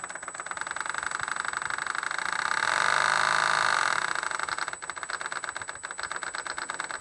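A cheap Toys R Us RC boat's small electric motor spins its propeller shaft under throttle, with the boat out of the water. It makes a steady buzzing rattle that swells louder for a second or so in the middle, then settles back.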